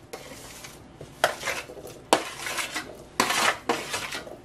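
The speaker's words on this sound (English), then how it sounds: "then you just want to scrape the" A utensil scrapes squash from a dish into a pot of chowder, with several distinct clanks and scraping strokes against metal, close and moderately loud, no voices.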